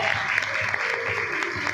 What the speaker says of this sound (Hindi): आप सबकी तालियों की गूंज में वो तशरीफ लाएंगे